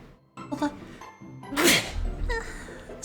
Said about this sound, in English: hold on, I might have to sneeze.